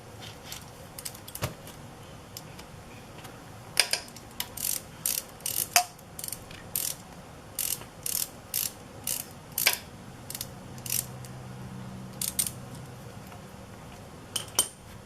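Clicking ratchet strokes loosening the transmission oil fill plug on a Harley Sportster 1000, a quiet close series of short bursts with pauses between, no talk.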